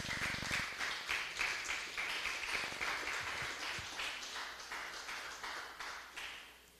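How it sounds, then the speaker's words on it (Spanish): Church congregation clapping in praise, a soft, distant patter of many hands that carries on steadily and gradually fades, with a few sharp taps near the start. "Denle un fuerte aplauso al Señor"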